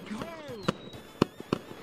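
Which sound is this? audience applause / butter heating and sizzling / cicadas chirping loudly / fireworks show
fireworks show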